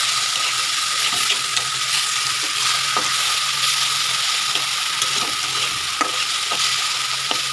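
Small kachali fish fry in hot oil in a wok with a loud, continuous, close sizzle, broken by occasional clicks and taps of a utensil against the pan.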